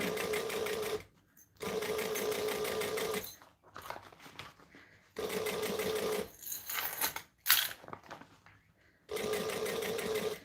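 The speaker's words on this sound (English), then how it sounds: "you want to basically be stitching almost on the piping is the original actual goal" Sewing machine stitching piping onto fabric in several close, steady bursts separated by brief silent pauses, with handling noise between runs.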